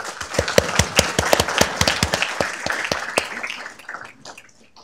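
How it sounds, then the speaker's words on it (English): An audience at a city council meeting gives a round of applause, a spread of sharp, close claps that build quickly and then fade out over a few seconds. "Let's give them a round of applause."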